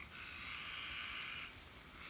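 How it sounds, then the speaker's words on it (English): Tree frogs call in a steady, continuous chorus from nearby trees outdoors, a dense high trilling wash that swells and holds for over a second before easing slightly, with no talking over it. "Listen to the tree frogs."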